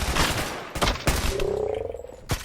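Gunfire in Minecraft, a few loud sharp shots separated by short pauses over a faint background tone.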